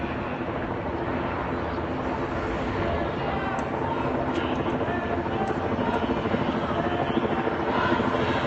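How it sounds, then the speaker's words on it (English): Police helicopter hovering above a street protest in Southwest 5th Avenue, its steady rotor drone thick and continuous throughout, with crowd chatter faintly mixed underneath. "That's a police helicopter"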